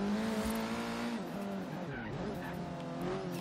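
Turbocharged Honda Civic Type R in Forza Horizon 3, its engine droning steadily at high revs with pitch shifts as gears change, loud and continuous throughout.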